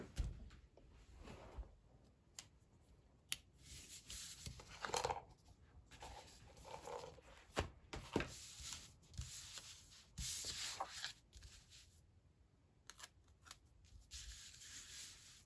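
Scissors cut a paper sticker from a tile sticker book in half, with repeated close snips, paper rubbing and rustling, and uneven pauses between the cuts.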